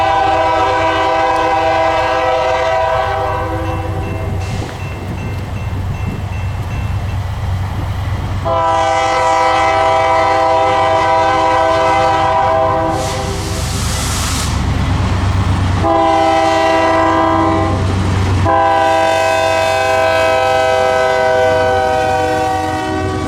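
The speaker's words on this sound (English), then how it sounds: "had our first train of the trip, a northbound T-Bird with a pair of C40-8s" A northbound Iron Range T-Bird freight between the Forbes and Thunderbird mines, led by a pair of C40-8 locomotives, sounds its horn in loud, sustained blasts over a steady engine and rail rumble close by.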